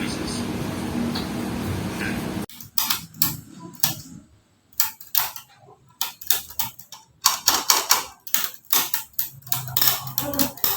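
A manual typewriter clacks through a manuscript in quick irregular bursts of sharp keystrikes with brief pauses. A murmur of room talk comes first, then the typing stands almost alone.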